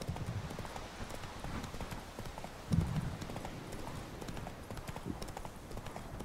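The horse Roach gallops in the Witcher 3 video game, with rapid, steady clip-clop hoofbeats close by and a brief louder thump partway through, no talk.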